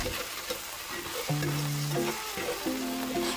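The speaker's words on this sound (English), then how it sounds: "Give a few stirs and push around, allowing salt evenly coated on the meat." Chicken stir-fries with salt in a pan, a steady close sizzle joined by short tonal scraping strokes as the meat is pushed around.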